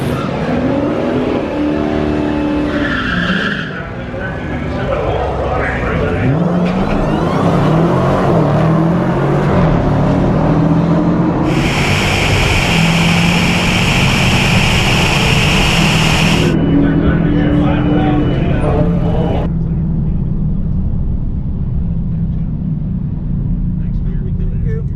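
A Dodge Hellcat drag car at a drag strip gives a loud, continuous engine roar with revving and acceleration, joined by a bright high-pitched whine in the middle of the run, while people talk over it.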